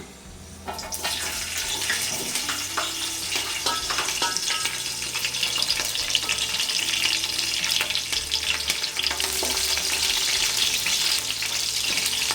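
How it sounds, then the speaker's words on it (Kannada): Green chillies dropped into hot oil in a pan for a country chicken pepper fry, a loud, dense, continuous sizzle that flares up once they go in and crackles steadily throughout, with no speech. "ಈಗ ಫಸ್ಟು ಹಸಿಮೆಣಸಿನ್ಕಾಯಿ ಹಾಕ್ಕೊಳ್ಳೋಣ."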